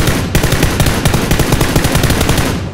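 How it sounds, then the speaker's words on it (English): Rapid automatic gunfire in the PUBG battle royale game, a loud, dense stream of shots rattling continuously for nearly three seconds with no pauses. "They're shooting each other."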